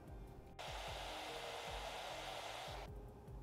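A hair dryer blowing to dry freshly applied mascara on lashes, switching on with a steady, close whooshing roar for a few seconds before cutting off.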